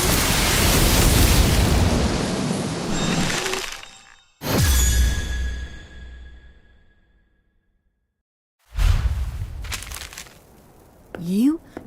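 Confringo blasting spell explosions in a Harry Potter video game: a long roaring, crackling blast that fades out, a second sharp burst that rings and decays into silence, then another loud blast near the end.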